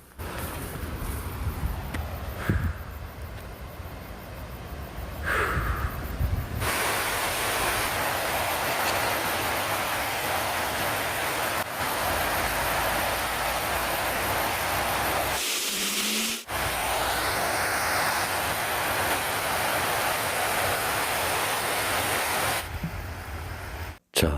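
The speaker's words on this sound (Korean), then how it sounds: "물 흐르는 소리, 자연의 소리 잘 들으셨습니까?" Loud, continuous rushing of a river flowing past a gravel and sand bank at an off-road campsite, a dense unbroken roar with a couple of brief dropouts and clicks, no talk.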